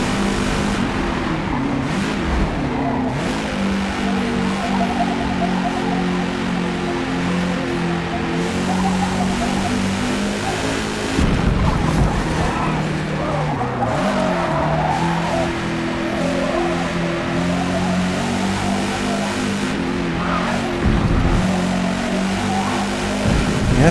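Race car in Forza Motorport, an engine that rises and falls through gear changes, with repeated tire squeals and skids under hard braking and cornering, loud and continuous with no talk.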